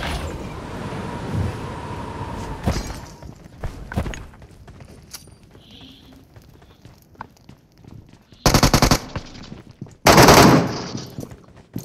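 MG3 machine gun fire in PUBG: scattered faint shots early on, then two loud, dense bursts of rapid fire near the end.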